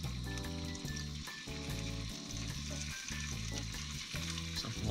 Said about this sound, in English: Bacon sizzle.